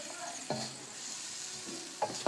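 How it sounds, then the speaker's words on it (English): Stir-fry being mixed in a pan off the heat, with a faint steady sizzle and a few sharp scraping and clattering strokes of a utensil against the pan near the start and end. "I'm going to just mix this all together."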